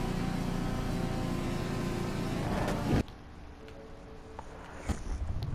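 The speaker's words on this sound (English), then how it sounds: "I should just stop revving the engine. It's still kind of loud" A car engine in the Hot Wheels Universe Zero video game drones loudly and steadily, then cuts abruptly to a quieter, thinner engine hum with a few sharp knocks.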